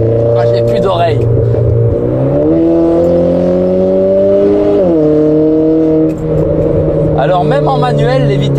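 Renault Clio RS Trophy Stage 1 hatchback with 260 hp, its engine droning loudly from inside the cabin as the revs climb and shift in steady stages, with people talking over it.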